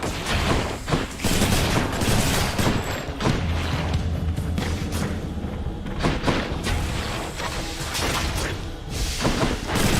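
Mortar fire from the Exagryph weapon in Hades, a series of heavy booming shots and blasts with crackling impacts, repeated over a dense, loud combat din.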